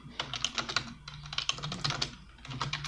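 Rapid typing on a computer keyboard while coding an operating system in C#, with quick irregular key clicks in bursts and a brief pause, close and clear without talk.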